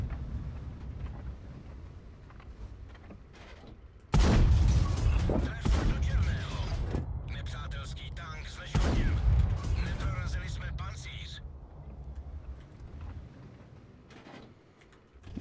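Two heavy tank cannon shots in World of Tanks, each a sudden thunderous blast with a long rumbling decay, several seconds apart over engine drone, with a player talking throughout.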